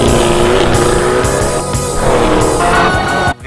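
A Chevrolet Corvette C8 engine roars up close: a loud, strongly tonal, throaty drone whose pitch swells and dips as the revs change, ending in a sudden cut.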